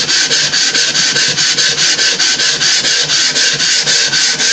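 Rapid back-and-forth rasping strokes of sanding foam board for a model fuselage, loud and close, in a steady fast rhythm with no talking.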